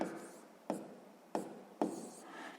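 Pen scratching on paper while working a sixth-grade maths exercise, four short strokes starting at about 0.7-second spacing and then wider apart. Each stroke is close and moderately loud over a soft steady background, with no speech.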